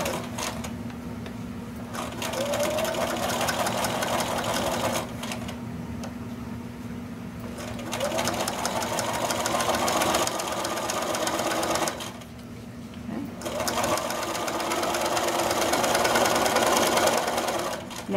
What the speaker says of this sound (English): Now I'm going to sew the binding all the way around to the other side